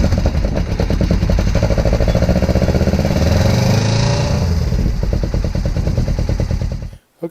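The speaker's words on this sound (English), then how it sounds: "We'll turn it on and see if she starts up." A choked, carbureted motorcycle engine runs loud and close with a steady, rapid, pulsing putter that stays even for several seconds before cutting off abruptly near the end.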